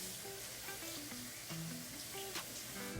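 Steak fries in a pan with a faint, steady sizzle and scattered soft crackles, quiet and even throughout.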